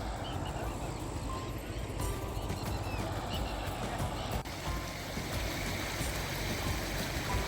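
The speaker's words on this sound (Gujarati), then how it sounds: "ખડખડ વહેતું મસ્ત પાણીનો અવાજ આવે છે" The Narmada river rushes past nearby, a loud, steady wash of flowing water that continues without a break.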